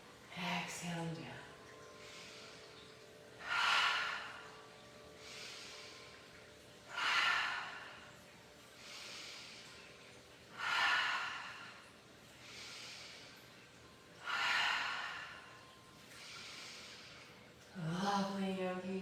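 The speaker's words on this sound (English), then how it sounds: "Inhaling through the nose, exhaling through the mouth." Slow yoga breathing, with deep inhales through the nose and airy exhales through the mouth in a steady repeating rhythm of roughly five breaths, close and soft, with a voice speaking at the start and end.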